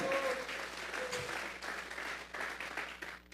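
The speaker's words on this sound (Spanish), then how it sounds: "Vamos a regalarle otra ofrenda de palmas al Dios de la gloria." A church congregation claps together as an offering of praise to God, a dense and steady round of applause that fills the whole stretch, with a few voices faintly mixed in.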